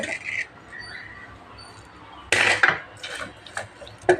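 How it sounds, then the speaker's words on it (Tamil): Onion, garlic, ginger, cinnamon, cloves, pepper, fennel and poppy seeds dropping into a mixer jar in a village kitchen, a few short clinks and clatters separated by quiet gaps, with a faint voice early on. "இப்போ இது எல்லாத்தையும் மிக்சி ஜாரில் போட்டாச்சு"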